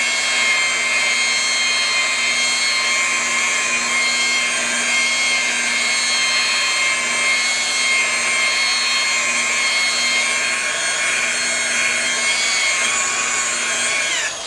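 Steady, loud power-tool whir of a sander working deep scratches out of car paint, running continuously for the whole stretch with a constant hum and no talking.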